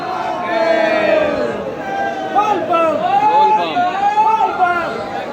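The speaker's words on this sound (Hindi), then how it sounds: "और भीड़ देखिए यहाँ का देवघर का।" A dense crowd of pilgrims at the Deoghar temple town fills the air with loud, continuous massed voices and chanting shouts, close and overlapping, swelling and falling without pause.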